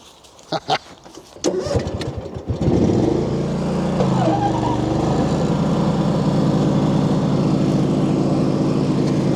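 An Etesia Attila brush-cutting mower clearing an overgrown field starts up after a few clunks and handling knocks, then settles into a loud, steady engine drone that runs to the end.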